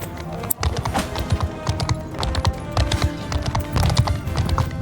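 Cavalry horses gallop in a Mount and Blade Bannerlord battle, with dense, fast clip-clop hoofbeats and occasional neighs. The sound is loud and continuous, with a brief dip early on.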